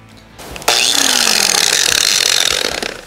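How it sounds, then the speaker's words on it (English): A small random orbital sander with 120-grit paper grinds across the top of a Lodge cast iron griddle, starting abruptly and running as a loud, steady, harsh whir for about two and a half seconds. "we're going to use a little random orbital sander with a finer grit, like a 120."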